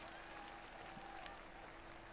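A golf video game crowd, Golf Club 2019, applauds a putt: a faint, steady wash of clapping that holds level throughout, with a voice briefly audible beneath it.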